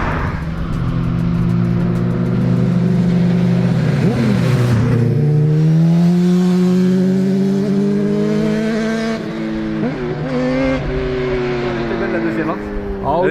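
A tuned turbo car with a full tubular turbo exhaust line revs hard and roars past loudly, its engine note climbing and falling in sweeping pulls, while people talk over it.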